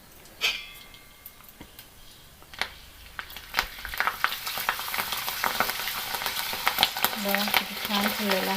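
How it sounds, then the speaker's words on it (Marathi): Spinach papad sliding into hot oil one at a time, a soft start building into a steady, close crackling sizzle with small pops and a few faint clicks. "आता आपण एक एक करून पापड तळून बघू"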